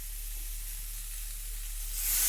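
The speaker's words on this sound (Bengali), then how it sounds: "আমি জলটা দিয়ে দিলাম।" Water poured into hot oil with turmeric for a green mango curry gives a steady close hiss that surges sharply louder at the end.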